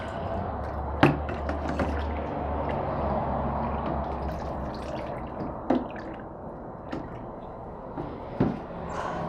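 Water swished by hand in a tub of fiber reactive dye with fabric, a quiet sloshing wash punctuated by a few sharp splashes and drips at intervals.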